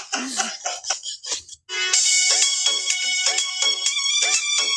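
A loud, bright electronic ringtone plays a repeating melody up close after a brief burst of sound and a short pause.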